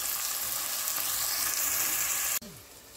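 Red onions fry in hot oil for a fish masala keema, giving a loud, steady close sizzle that cuts out abruptly and leaves a quieter hiss with a faint clink near the end.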